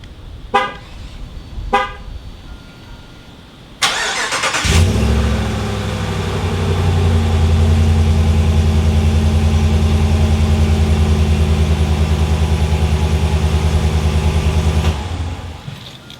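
Two short chirps, then a cold start of a 2021 Ram 1500 fitted with a Borla S-Type cat-back exhaust: the engine catches and settles into a loud, deep, steady idle close by for about ten seconds before cutting off.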